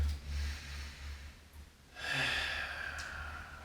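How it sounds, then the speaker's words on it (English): Deep breaths during a yoga floor pose, a strong exhale around the start, a quieter pause, then a long, louder breath from two seconds on, close and alone. "take those 3 breaths again"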